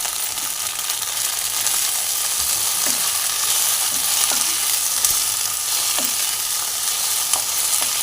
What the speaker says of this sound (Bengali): আর এখানে দেখুন ডাল ফুটছে।